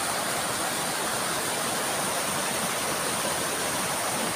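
A swollen, risen river rushes past steadily near a bridge, a dense, continuous broadband roar of flowing water with no pauses and no voices.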